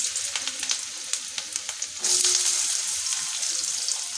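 Cumin seeds crackle softly in hot oil, then potatoes drop in and a loud, dense sizzle surges up and holds steady nearby, with no talking.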